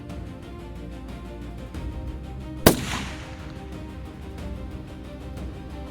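A single sharp gunshot cracks out once amid real front-line war ambience, loud and abrupt against a steady low background rumble.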